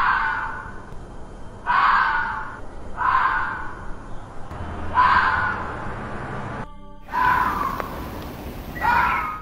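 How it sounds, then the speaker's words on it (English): An angry red fox screams in harsh, rasping bursts, five or six loud shrieks spaced about a second apart, close and alone with no talk. "Number 2, the red fox."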